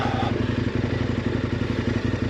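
A KTM 1090 Adventure motorcycle crawls slowly up steep, rough terrain, its engine a close, loud, low rhythmic thrum with a steady pulsing beat throughout.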